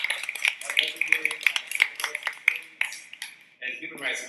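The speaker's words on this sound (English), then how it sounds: "Let's give her a round of applause" Scattered light clapping greets a guest at a Juneteenth human rights workshop, a thin patter of a few hands under a voice that talks throughout, before the clapping fades out.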